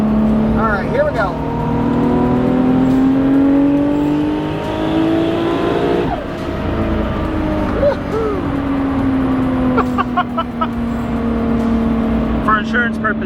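A 1000+ hp Moon Boosted Toyota Supra, right-hand drive, pulls hard from 40 to 70 mph on the road, its engine rising steadily through a gear change, loud and close, with people talking briefly.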